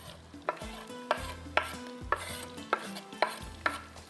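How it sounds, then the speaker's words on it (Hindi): Onions frying with curry leaves in a pan, with regular spoon scrapes about every half second over a soft sizzle, close and quiet, with no voices. "थोड़ा सा प्याज को करेंगे फ्राई।"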